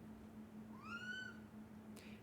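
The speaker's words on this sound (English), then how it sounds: "Listen to the cat." A single rising, slightly tonal meow from a house cat, fairly faint and alone against a low steady hum in an indoor room.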